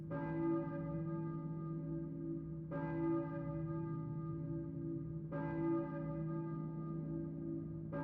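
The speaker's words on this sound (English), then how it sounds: "And now we have this church bell going." Church bell in a Silent Hill game tolling three times at an even, slow pace, each deep ringing strike decaying into a long sustained hum.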